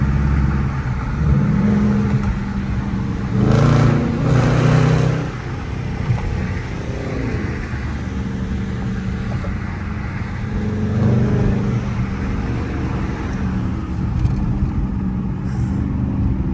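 Dodge Charger R/T driving through city streets in Philadelphia, its engine a loud, close, continuous rumble with a couple of sharper revving surges early on, then a steady throaty drone while cruising.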